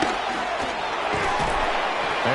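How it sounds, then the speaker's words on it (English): Steady roar of a stadium crowd in a football video game, a continuous loud wash of voices with no breaks. "this crowd making it hard to hear"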